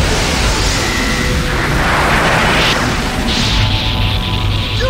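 An anime spirit gun energy blast strikes its target in a loud, continuous roaring boom with crackling, explosive rumble throughout, from an English-dubbed Yu Yu Hakusho movie, with no talk.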